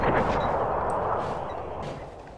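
Russian artillery guns in a war strategy game fire heavy booming shelling, one deep rumbling blast that slowly fades, with faint distant reports behind it.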